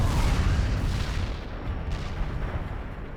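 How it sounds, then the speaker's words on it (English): Artillery barrage explosions in the video game World in Conflict, a dense run of heavy booms and rumbling blasts that continues without pause through the whole stretch, loud and close. "Artillery barrage hit for full effect."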